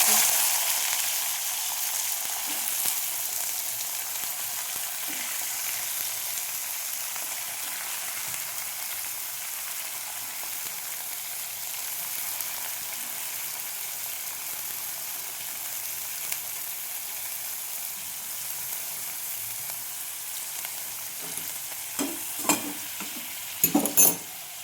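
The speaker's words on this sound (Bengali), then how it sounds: "কড়ার তেল গরম হয়ে গেছে। আমি এখানে বিট গাজর ভেজে রেখেছি, এটা পোস্ত দিয়ে করব ভাজা।" Beetroot and carrot fry in hot oil in a wok, a steady close sizzle that continues evenly, with a few clattering stirs near the end and no talking.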